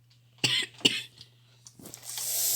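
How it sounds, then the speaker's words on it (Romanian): A person coughs in a room during a Piggy game session, two sharp close coughs followed by a smaller one and a rough throat-clearing rasp, over a low steady hum. "O să vedeți că tușesc."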